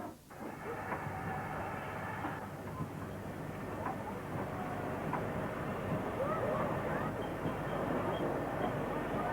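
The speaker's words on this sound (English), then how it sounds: "Manor number 7821, Ditcheat Manor, typifies the era as it works this local train." A GWR Manor class steam locomotive working a local train in the 1950s or 1960s, heard as a steady, faint rolling rumble with a hiss throughout and a few soft clanks, fairly distant.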